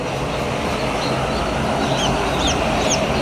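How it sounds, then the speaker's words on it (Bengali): Layer chicken chicks give high, thin chirps that come in a few short bursts over a loud, continuous low rumble of a crowded poultry setting. "এখানে দেখতে পাচ্ছেন লেয়ার মুরগি বাচ্চা রয়েছে"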